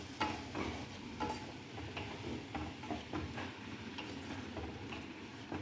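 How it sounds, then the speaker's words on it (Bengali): Mutton and pointed gourd curry is stirred in a pot after water goes in, giving a steady wet bubbling hiss with repeated scraping strokes close by and no talking. "জলটা এর মধ্যে আমি ঢেলে দিচ্ছি। ভালো করে আমি নাড়াচাড়া করবো।"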